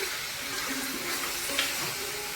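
A little water poured into chicken curry cooking in a pan, a soft steady splashing hiss under a faint tonal background, fairly quiet and continuous.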